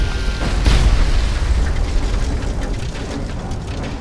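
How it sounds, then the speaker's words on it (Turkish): A deep booming explosion in the video game Mad Max bursts out near the start, followed by a rumbling, crackling tail that fades into steady noise. "durduk yere nasıl patladın sen"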